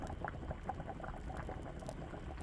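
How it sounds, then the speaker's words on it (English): A pot boils hard on a stove beside red snapper frying, a steady close bubbling and popping churn that holds evenly throughout with no voices over it. "see how my pot boiling there?"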